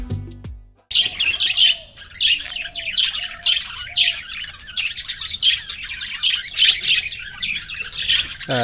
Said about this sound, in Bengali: পাখির কিচিরমিচির একেবারে জায়গাটা ভরে উঠেছে।